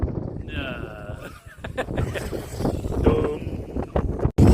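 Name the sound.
wind blowing at outdoor skatepark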